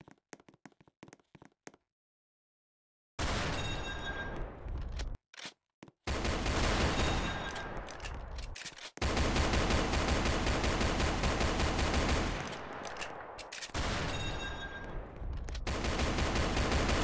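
Gunfire aimed at zombies outside erupts in loud, sustained machine-gun fusillades, starting with a few sharp isolated shots, then long rapid bursts broken by brief pauses.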